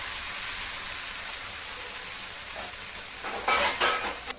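Raw banana slices fried in a pan, a continuous close hissing sizzle, broken near the end by louder scraping bursts as the pieces are stirred.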